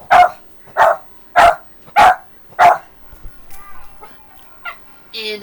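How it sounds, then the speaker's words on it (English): A dog barks five times in a steady, evenly spaced series, loud and close, followed by quieter voices talking. "the dog just had to bark"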